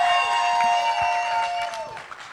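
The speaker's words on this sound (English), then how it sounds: "Let's give it one round of applause for all the bridesmaids" Audience applause at a wedding reception, given for the bridesmaids, a dense wash of clapping that runs steadily for a couple of seconds, mixed with background music tones, then thins out toward the end.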